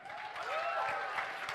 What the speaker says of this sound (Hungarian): egy nagyon nagy tapsal bátorítsuk őket